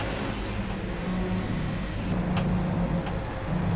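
A heavy rescue tow truck straining under load during a recovery on a highway: a loud, steady low engine rumble with a rough, labored tone, continuous and close, with no speech.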